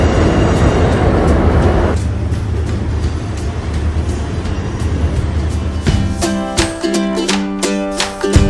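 Steady low rumble and rattling of a moving train on the Royal Gorge Route Railroad, with rhythmic clacking and a brief tonal whine toward the end; no voices.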